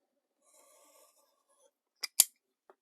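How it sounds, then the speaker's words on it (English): Scissors snipping paper for an altered book cover: two sharp close cuts in quick succession followed by a faint third snip, with quiet rustling before. "So I'll cut that down there."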